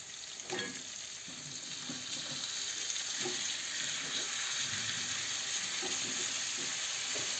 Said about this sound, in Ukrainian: цей шар ми перемішуємо перший шар оцей